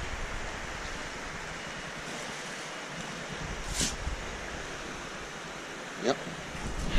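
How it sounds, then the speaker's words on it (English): River flowing below a deck in the Blue Ridge Mountains in November, a steady broad rushing wash heard from a distance, with a couple of brief faint knocks and no talking. "Another shot of the river."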